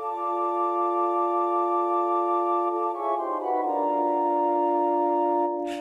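Pipe organ sounding its solo division alone, a sustained chord held loud and steady, then shifting to new notes partway through with no talking.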